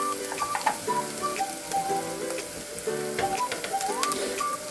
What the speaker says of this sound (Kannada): ಈರುಳ್ಳಿದು ಶುಂಠಿ ಬೆಳ್ಳುಳ್ಳಿ ಪೇಸ್ಟ್ ಎಲ್ಲ ಹಸಿ ವಾಸನೆ ಹೋಗಿ ನೀಟಾಗಿ ಈ ಥರ ಫ್ರೈ ಆದಮೇಲೆ